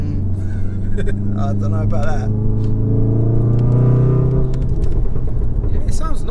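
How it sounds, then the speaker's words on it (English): Stock Volkswagen Golf R exhaust rumbling steadily while driving, a low droning tone that rises gradually as the car pulls, with people talking over it inside the cabin throughout. "it's giving off some nice exhaust sounds as well"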